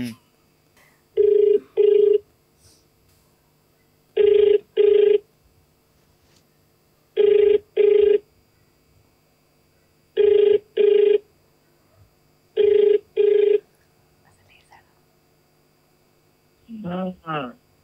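A telephone rings in paired bursts, five double rings evenly spaced about three seconds apart, clear and alone over a faint hum during a prank call, before a voice answers at the end.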